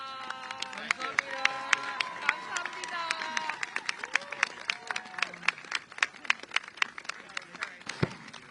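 Audience applause at a peace vigil held by the Asian American Federation in New York, steady clapping throughout with sharp individual claps growing more distinct toward the end, a singing or speaking voice faintly audible early on.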